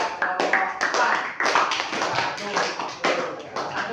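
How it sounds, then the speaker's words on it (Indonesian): A classroom of students applauds a student group after its presentation, with dense, steady clapping throughout and voices mixed in. "tepuk tangan buat kelompok"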